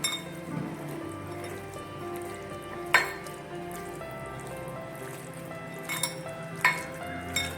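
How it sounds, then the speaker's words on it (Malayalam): Chicken is mixed with soy sauce and tomato sauce, producing soft wet stirring and a few sharp clinks of a utensil against the bowl, quiet and close with no talking. "ഇനി നമുക്കിത് നന്നായിട്ടൊന്ന് മിക്സ് ചെയ്യാം"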